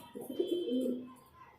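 Highflyer pigeons in a loft give a single soft, rolling coo, close and clear, with no talking over it.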